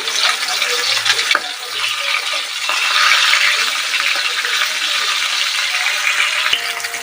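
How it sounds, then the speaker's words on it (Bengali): Pieces of katla fish fry in hot oil, a loud, continuous, dense sizzle that barely changes, with a couple of faint knocks near the start. "এক পিট করে মাছগুলো ভালো করে ভাজা হয়ে গেছে। আমরা একটু ভালো করে ভেজে নেব।"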